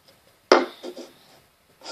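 A cup comes down on a table with one crisp knock as part of a cup-song routine, followed by a few softer taps and a light rub, close and quiet with no voices.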